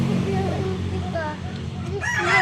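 Rooster crowing among many chickens along a walk home, a harmonic crow rising in the second half over steady low background rumble, with a voice briefly heard nearby.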